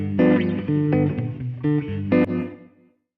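Electric guitar playing short, bright notes with a quick, tight slapback delay trailing each one, ringing clearly before fading out at the end.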